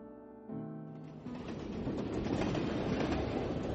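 A train running on rails in a radio drama scene, its rhythmic clickety-clack of wheels over track joints building steadily from a quieter start into a loud, continuous rumble, with no voices.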